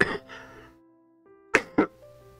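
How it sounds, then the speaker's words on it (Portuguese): Two sharp coughs from a man reviewing an anime, close and loud, following a brief earlier burst of throat noise, with quiet pauses between. "tosse de novo"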